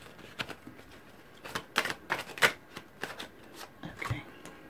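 Tarot cards are shuffled in quick papery riffles and slaps, several uneven bursts close by with short pauses between.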